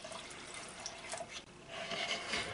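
Liquid, smelling of acid, is poured into cups during a torture test of an AR-15 mold, giving a steady, soft splashing trickle that stays faint and even.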